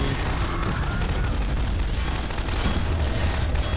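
A pulse rifle fires in Half-Life 2 in a rapid, sustained barrage of loud energy shots that blur into continuous gunfire against the game's battle noise.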